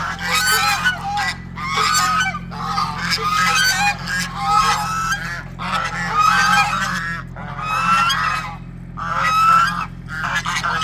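Geese honk repeatedly in loud, overlapping bursts, a whole flock calling close by with steady low background hum.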